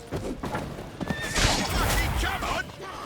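In The Witcher 3, a horse lets out a loud, drawn-out neigh and whinny over busy game sounds and rustling.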